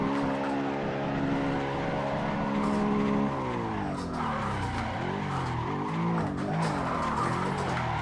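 A stock BMW E92 or Supra drifts in Assetto Corsa, engine droning loudly under a long continuous tire squeal, pitch sweeping up and down as the car slides, changes gear and catches throttle.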